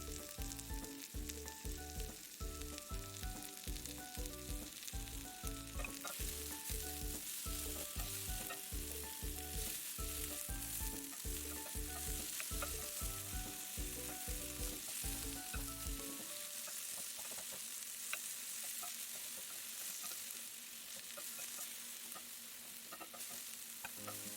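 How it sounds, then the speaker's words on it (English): Bell peppers, onions and garlic sauteing in a pan give a steady, close sizzle and crackle that runs the whole stretch without talk, with a clear change in texture partway through. "It's time to saute our bell peppers, onions, and garlic."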